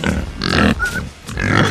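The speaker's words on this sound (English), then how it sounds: "They are saying oink oink." A pig grunts and oinks in several short, loud, close bursts with brief pauses between them.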